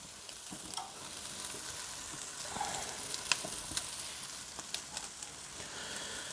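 Wagyu sirloin steak and a whole pork tenderloin sizzle on a Weber grill, a steady crackling hiss with scattered pops and spits, fairly soft and close, without speech.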